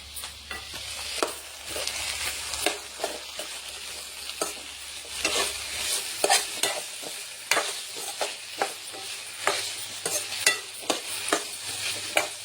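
Ivy gourd (tindora) pieces frying on a low flame, giving a soft steady sizzle broken by many quick clinks and scrapes of stirring, close by and with no talking.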